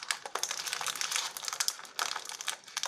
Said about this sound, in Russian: Для начала мы откроем Орео.